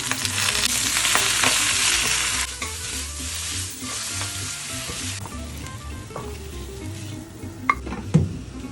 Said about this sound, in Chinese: 用我自己做的猪油炸炒青菜